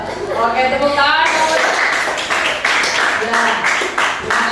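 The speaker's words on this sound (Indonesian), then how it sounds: "Oke, tepuk tangan." Classroom applause during a teacher's performance-test lesson, a brief burst of clapping under and between a teacher's spoken words, fairly close and moderately loud.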